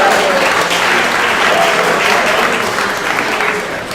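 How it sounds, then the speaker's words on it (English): A crowd gives a sustained, loud round of applause for the West Genesee boys ice hockey team during a live broadcast event at a venue called The Wildcat, with dense clapping continuing evenly for the whole stretch. "can we give this team a round of applause"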